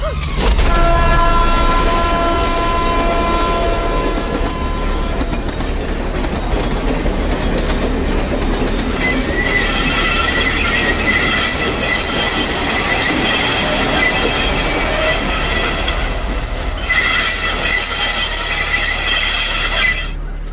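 Loud, sustained high-pitched squealing of train wheels under heavy braking, with rumbling rail noise throughout; the squeal shifts and intensifies partway through.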